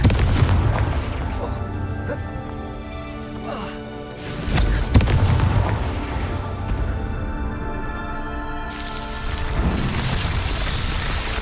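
A Confringo fire spell detonates in the Hogwarts Legacy video game, a loud booming burst near the middle over a dense, continuous bed of game music and ambience, with smaller thuds scattered around it.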